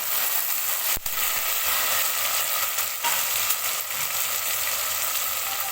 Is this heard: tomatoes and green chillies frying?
yes